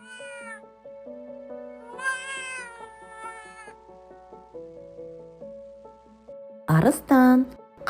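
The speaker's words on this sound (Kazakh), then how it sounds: "Абдан." A lion cub calls in high, cat-like mewing cries: two short calls early, then a louder, sharper call near the end, over a gentle melodic music background.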